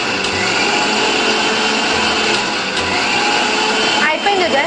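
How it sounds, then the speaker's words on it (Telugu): A mixer grinder runs steadily, grinding tomato puree in a kitchen, a loud continuous whirring motor drone that holds for several seconds with a brief change in pitch near the end. "టొమాటో ప్యూరీని మిక్సీలో గ్రైండ్ చేస్తున్నారు"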